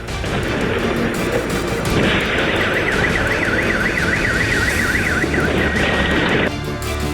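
A loud, wavering air raid siren rises and falls in Kyiv after explosions, over a dense roar of noise and rumbling, continuing for several seconds before cutting off.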